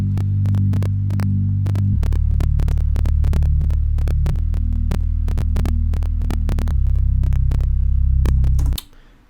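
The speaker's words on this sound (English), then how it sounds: "I just added a synth bass" A deep synth bass plays in a hip-hop beat, holding long low notes that shift pitch every couple of seconds under crisp, regular percussive ticks, then cuts off abruptly at the end.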